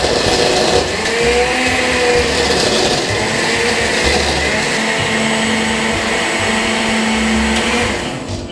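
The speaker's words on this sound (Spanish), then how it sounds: "Y ahora sí, vamos a mezclar." A blender churns pineapple, ice and other piña colada ingredients for about eight seconds, a loud continuous motor whir with grinding ice, steady throughout before cutting off at the end.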